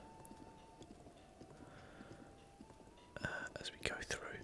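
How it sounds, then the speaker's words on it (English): Horse hooves clip-clop in The Legend of Zelda: Breath of the Wild, a steady run of hoofbeats under a faint game hum, followed by louder rustly handling noises near the end. "So it's kind of cool to have a horse."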